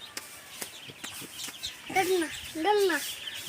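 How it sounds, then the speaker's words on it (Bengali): Young Chinese ducklings, about fifteen days old, call inside a small shed holding two hundred birds, with several rising chirping peeps near the end over a soft background of faint clucks and shuffling. "আমরা তার জন্য 200 চীনা হাঁসের বাচ্চা নিয়েছি"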